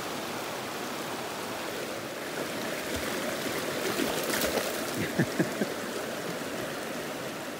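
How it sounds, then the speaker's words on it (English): Chilly mountain creek water flowing steadily in a forest, a continuous broadband rush close by with a few brief splashes or knocks near the end, and no talk. "Well, Olive crossed right over the creek."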